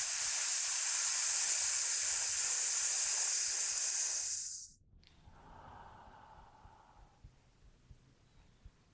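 A diaphragm breathing exercise: a loud, forceful, hissing exhale lasting several seconds, then a much quieter, softer inhale after a brief pause.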